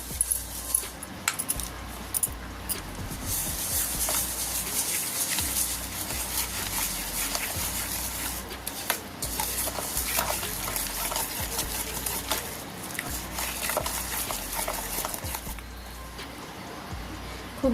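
Semolina, sugar and salt are stirred together in a bowl, making continuous gritty scraping and clinking that runs steadily and up close for nearly twenty seconds.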